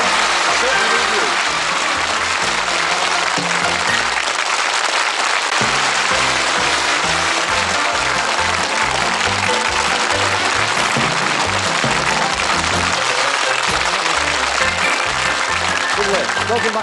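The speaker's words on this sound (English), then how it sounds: "Give them a round of applause." Studio audience on the 1981 Bullseye game show applauds loudly and continuously, a dense wall of clapping filling the whole stretch without pause.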